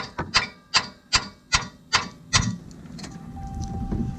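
Six sharp metallic taps strike a 17mm spanner on a tight bolt of a Land Rover Discovery 3, evenly spaced about half a second apart and close up, followed by quieter shuffling and faint workshop noise.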